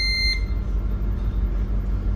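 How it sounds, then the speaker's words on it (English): A boat's autopilot alarm beeps in a short bright burst of tones at the start, then falls away, leaving a steady low engine rumble alone. "The reason it's beeping at us right now is because we're on autopilot."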